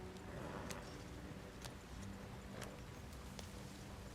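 Faint, regular clip-clop of horse hooves in the video game Red Dead Redemption 2 over a steady background hum, the taps evenly spaced and soft throughout.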